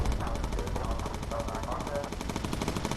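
Rapid machine gun fire rattles on without a break in the World War II bomber game Bomber Crew, with dense bursts layered over a steady engine drone.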